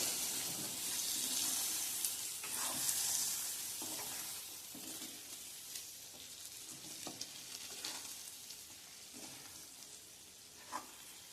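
Stuffed brinjal sizzles softly in a pan over low gas in a Marathi-style kitchen, with irregular scraping stirs and clinks throughout and no voices.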